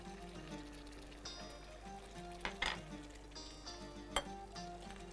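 Chopped onion goes into a pan while okra cooks with spiced butter: a soft sizzle with a few clinks and scrapes of a utensil against the pan, quiet and close, over a low steady hum.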